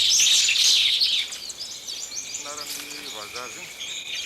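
Morning birds in a Madagascar forest: bright, busy high chirping and twittering that fades after a second, followed by softer scattered calls and a short trilled song further off.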